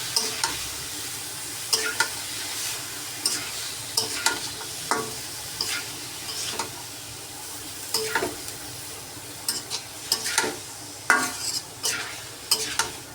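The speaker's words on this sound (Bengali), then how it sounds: "এখন এটা ভাজা হোক। এটা ভাজা হতে প্রায় অনেকটাই সময় লেগে যাবে" Eggplant with turmeric powder frying in a pan, a steady soft sizzle broken by regular scraping stirs of a utensil, close and without speech.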